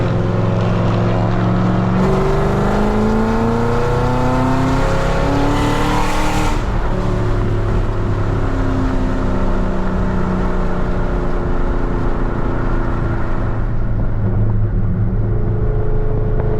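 A Chevrolet Camaro ZL1 races a Jeep Trackhawk, with a loud, sustained engine roar heard from inside the car as revs climb and shift through rising tones, wind and road noise filling the background.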